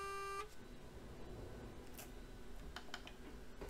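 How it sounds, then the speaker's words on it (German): A heavy haulage truck's horn in a snowy driving game, one brief loud tonal honk at the very start, then fading into a low engine rumble with faint clicks. "Ich habe mal gehupt"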